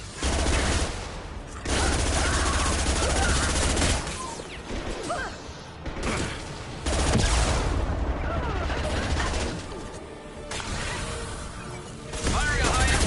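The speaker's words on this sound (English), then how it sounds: "Firing a high impact shot." Bursts of rapid gunfire and impacts from a squad firefight in Mass Effect 2 Legendary Edition, loud and dense, with brief gaps between volleys and voices chattering over the combat.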